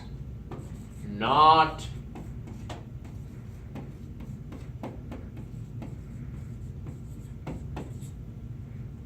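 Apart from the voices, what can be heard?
writing words by hand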